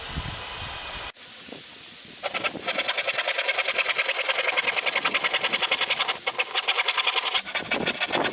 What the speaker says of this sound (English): Also, just drill a pilot hole.